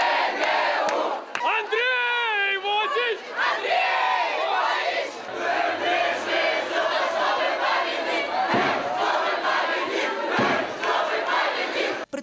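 A large crowd of supporters cheers and chants loudly and continuously at a Belarusian student competition, with rhythmic shouted calls rising over a dense roar of voices.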